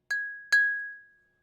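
Two glasses clink together during a toast, two bright ringing chimes about half a second apart, the second sustaining and slowly fading into silence.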